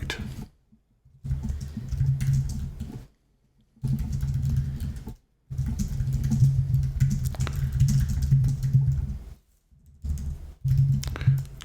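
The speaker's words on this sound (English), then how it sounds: "Let's just retype that line." Keys clatter on an Apple II computer keyboard in quick bursts of typing, separated by short silent pauses, close and moderately loud with no talking.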